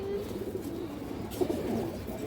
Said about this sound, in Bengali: মাদিরা অনেক চঞ্চল কবুতর